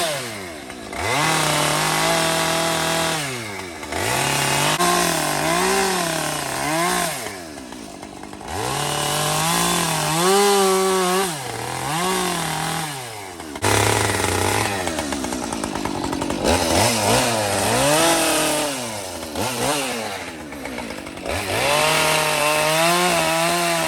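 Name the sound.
chainsaw carving wood sculptures at the Big E fair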